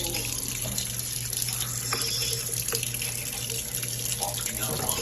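Water pours steadily into a washing machine, a continuous hissing rush that stays even throughout, with faint clicks and handling sounds mixed in.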